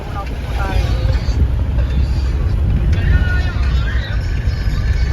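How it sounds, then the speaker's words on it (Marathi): A car driving along a road, with steady low engine and road rumble plus wind buffeting throughout, while people talk inside over the noise. "आपली गाडी अजून चालूच आहे"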